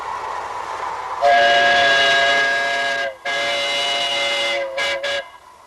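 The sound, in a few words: miniature live steamer steam train running on track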